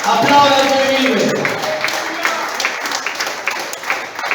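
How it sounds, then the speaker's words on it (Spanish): Church congregation clapping at a Spanish-language service, dense applause that swells early and then settles, with a voice and some sustained tones in the first second. "Aplauda al que vive."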